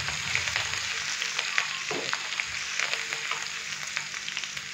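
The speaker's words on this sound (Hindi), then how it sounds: "अभी मैं इसके अंदर 1 टीस्पून अदरक और लहसुन का पेस्ट डालूंगा। अच्छे से मिक्स करेंगे और हल्का सा हम इसको रोस्ट कर लेंगे।" Ginger garlic paste frying in hot oil for a restaurant-style moong masoor dal tadka, giving a steady close sizzle with light stirring scrapes and small crackles throughout.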